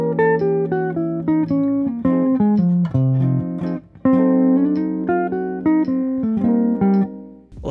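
Jazz lines over a diminished chord, with a steady run of quick single notes moving up and down above held lower tones, played continuously and loud with no talking.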